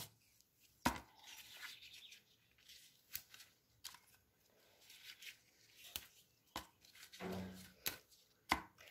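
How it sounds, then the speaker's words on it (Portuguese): Sweet potato leaves being chopped on a board, a quiet run of irregular crisp knife taps and scrapes, close and faint, with short pauses and no speech. "Para picar, a gente pica igual qualquer outra verdura"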